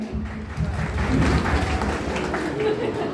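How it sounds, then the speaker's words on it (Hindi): Steady applause from a crowd at a school Grandparents' Day celebration for a few seconds, with voices mixed in. "सर के लिए जोरदार तालियां।"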